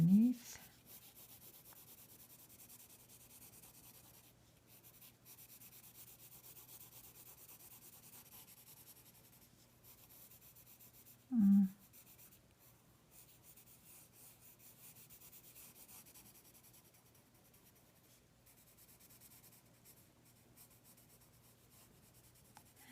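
Pencil shading on paper for a baby unicorn sketch: a soft, steady rubbing scratch that runs quietly throughout, close and faint, with one brief louder bump near the middle.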